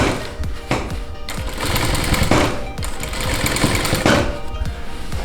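Sewing machine stitching a seam on denim jeans, a fast steady mechanical chatter with short pauses and restarts as the fabric is guided.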